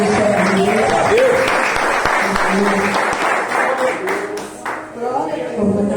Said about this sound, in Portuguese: As palmas agradeçam o nome do Senhor